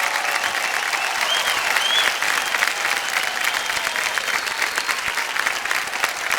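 A studio audience on a televised quiz show bursts into loud, sustained applause, a dense steady wash of clapping that holds at full strength throughout with no talk over it.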